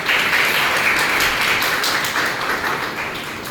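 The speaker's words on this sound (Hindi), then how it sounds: "इनके लिए भी तो तालियां बजाएं" Sustained audience applause fills a hall during a talk on behaviour, dense steady clapping from many hands that holds loud, then eases slightly toward the end.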